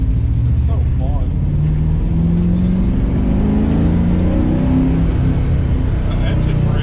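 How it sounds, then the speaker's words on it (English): A tuned car with a 6-speed manual gearbox engine-braking on curvy back country roads, its loud steady engine drone shifting in pitch as it slows, with people talking over it throughout. "The engine brake is pretty good."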